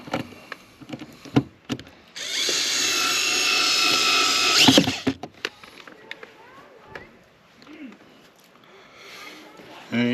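A power driver whirs steadily for about two and a half seconds, driving screws into a hinge on a motorhome storage compartment door, with scattered clicks and handling knocks before and after and a voice talking nearby.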